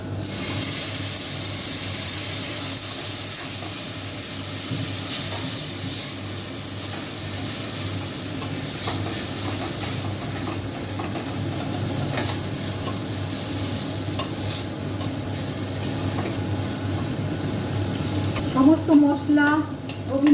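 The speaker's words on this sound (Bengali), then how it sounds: "চালগুলো কষানো হয়ে গেছে এবার আমি একটু জল দিয়ে দিচ্ছি" Mung dal and rice hiss loudly and steadily in a pan once water is added, with stirring scrapes throughout and a sharper burst of bubbling near the end.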